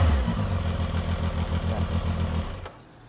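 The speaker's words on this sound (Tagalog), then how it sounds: "So yun yung tunog ng 703F," A Zontes 703F motorcycle on its stock exhaust runs at a steady, loud, throbbing idle close by with a slight mechanical clatter, then cuts off near the end.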